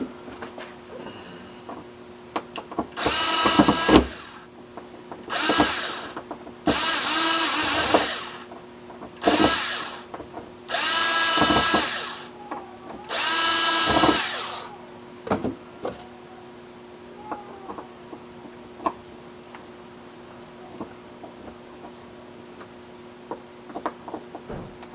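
Carburetor screws on a Craftsman leaf blower are tightened in six short whirring bursts of a driver, each a few seconds long and separated by quiet pauses, with faint clicks and handling noise between.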